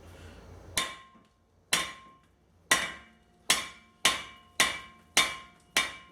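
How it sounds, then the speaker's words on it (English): Eight sharp, loud strikes of a dead blow hammer on a brake rotor of a 2018 Ram 3500 pickup, spaced irregularly about a second apart, each with a ringing metallic decay, with no talk. "So there's another reason to use the dead blow hammer."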